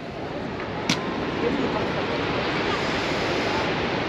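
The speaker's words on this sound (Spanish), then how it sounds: "Cataratas del Rin" Rhine Falls waterfall roaring as a steady, dense wall of rushing water, loud and continuous throughout with no pauses, heard up close at the falls.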